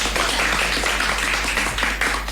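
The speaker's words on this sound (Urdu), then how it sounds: "اس کے لیے تو بہت ساری تالیاں ہوں گی" Children clap together on a children's radio show, a dense burst of hand claps held steady over about two seconds against a low constant hum, with no talking.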